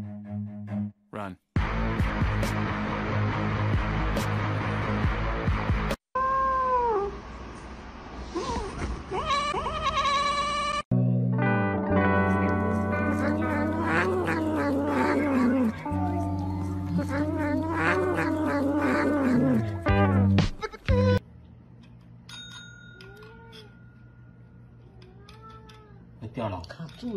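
A house cat meows and caterwauls repeatedly, loud and close, in drawn-out wails and shorter cries, with a person talking in between and other bursts of background sound.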